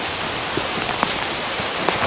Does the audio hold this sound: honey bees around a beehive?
no